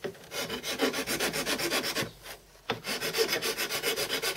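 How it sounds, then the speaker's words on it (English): A hand file rasping a hard plastic propeller flat at its boss, steady rhythmic back-and-forth strokes close up, with a brief pause midway before the filing resumes. "it's fairly hard plastic, so I found filing away seems to be a better way to do the job."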